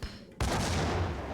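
A grenade blows up in the action game Max Payne, a sudden loud blast that breaks in after a short lull and rolls on as a sustained, rumbling roar.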